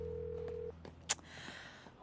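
A steady electronic telephone tone from an unanswered call sounds, cuts off abruptly, and is followed by a single sharp click and faint background hiss.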